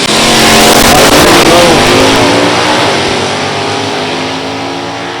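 Stick-shift 1997 Camaro with a 350 LT1 V8 drag racing at an NHRA Division 3 event at Beech Bend: a very loud, close engine roar at full throttle that slowly fades as the car pulls away.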